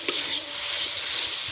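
Potatoes tumble into a pan of frying spice masala and get stirred, giving a short soft sizzle with a light scraping thump at the start, close and without talk.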